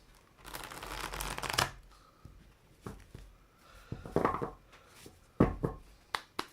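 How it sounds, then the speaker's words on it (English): Playing cards are shuffled in several quick riffling bursts, close and crisp, separated by short pauses and soft taps. "we have me shuffling the cards."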